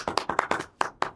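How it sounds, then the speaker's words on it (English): A few people clap in a small, sparse burst of about eight quick, close hand claps that stop after a second, with no talking. "Go clap."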